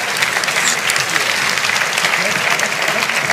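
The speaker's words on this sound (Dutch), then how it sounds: "mag ik ook een ongelooflijk applaus?" A hall audience at the Dutch Podcast Awards ceremony bursts into loud, sustained applause, dense clapping filling the room evenly throughout, with some voices mixed in.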